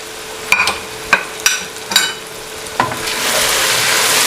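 Chicken fries with crushed red chilli, garam masala and spices in a karahi for Irani chicken karahi, with several distinct spoon clanks and scrapes followed by a swelling, loud steady sizzle.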